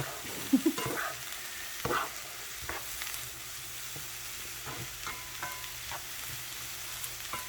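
Vegetables for Philly cheesesteak sloppy joes stirred and frying in a pan with a rice cooker spatula, with a steady sizzle under scattered scraping clicks and a few louder knocks near the start.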